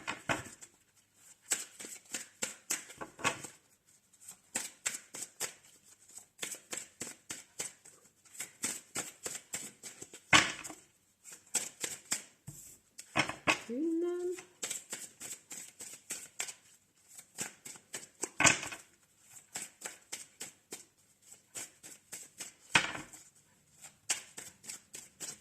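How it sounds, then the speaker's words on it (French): A deck of tarot cards is shuffled during a French-language reading, with repeated quick riffling bursts and a steady rhythm of card slaps close by, running alone throughout. "On va déjà mélanger les cartes."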